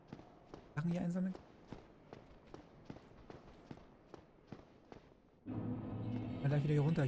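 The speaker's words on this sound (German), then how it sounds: "Ich habe irgendwie Angst, dass ich gerade noch Schritte höre hier." Footsteps in the video game Dark Souls, a steady series of sharp, moderately loud steps, followed by denser game sound and someone talking in German.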